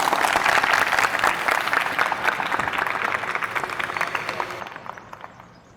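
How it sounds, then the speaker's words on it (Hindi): Loud applause from a political gathering welcoming a speaker to the microphone, many hands clapping densely before gradually thinning and fading out. "तालियां।"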